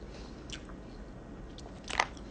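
Biting and chewing into a waxy pickle, a few soft, muted crunches close to the mic, with a sharper bite near the end.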